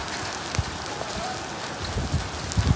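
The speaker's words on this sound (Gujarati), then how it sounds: "અને જોઈ લે વરસાદ ચાલુ થઈ ગયો।" Rain falling at night, around 11 pm, with lightning nearby: a steady, fairly faint hiss of drops on surfaces, with occasional soft low thumps and no clear talking.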